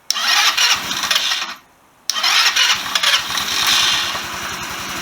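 A Chinese GY6 scooter engine cranks and fires up, a short burst that cuts out, then a second start that catches and settles into a steady, close, rapid idle putter.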